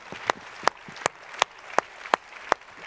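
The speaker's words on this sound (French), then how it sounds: "On peut la applaudir quand même" At a company celebration award presentation, a single steady clapping rhythm sounds: seven evenly spaced, sharp claps over a faint room hum, with no talk.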